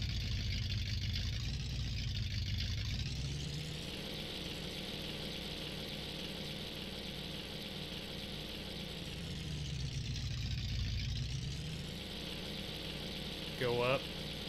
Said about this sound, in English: I think it's a glass pack exhaust.